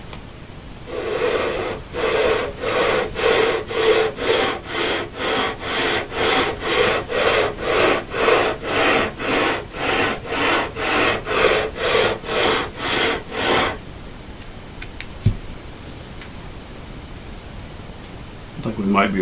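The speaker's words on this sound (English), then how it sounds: "I've got some sandpaper already on here, some 320." Hand sanding guitar wood with worn 320-grit sandpaper: about twenty steady back-and-forth rasping strokes in an even rhythm, close and loud, then stopping abruptly into quiet room noise.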